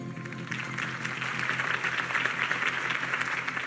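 Crowd applause for Harvey Dent's campaign speech in Batman: The Telltale Series, a steady wash of many hands clapping at moderate volume that swells slightly and holds for the whole stretch.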